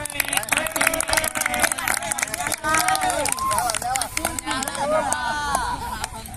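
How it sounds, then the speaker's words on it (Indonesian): Students in a PE class clapping their hands in brisk, uneven bursts amid lively voices and chatter, close and busy throughout. "Tepuk tangan."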